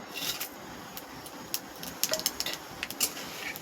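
Bay leaf, five-spice and dried chilli stirred in hot mustard oil in a pan for chicken curry: faint sizzling under scattered light metallic scrapes and taps of a spatula, close and fairly quiet.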